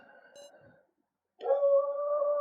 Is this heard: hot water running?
no